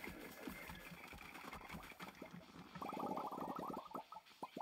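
A modded tractor engine in the farming game Stardew Valley idles and revs with a steady mechanical drone that grows louder and more pulsing in the second half, alongside clicky in-game footsteps and effects.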